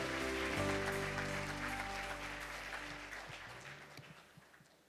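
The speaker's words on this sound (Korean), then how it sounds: "다시 한번 여러분 큰 박수로 맞아주시기 바랍니다." Audience applause at an anniversary alumni evening for a presidential science scholarship, welcoming a professor to the stage; a sustained wash of clapping begins loud and slowly fades over a few seconds, with no voices.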